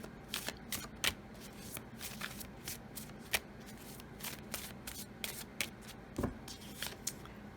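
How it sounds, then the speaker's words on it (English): Oracle cards are shuffled and drawn by hand, a soft, close, irregular run of papery flicks and riffles with a few sharper snaps, quiet and without talk. "Let's draw a few more oracle cards, and then we're going to get into the tarot."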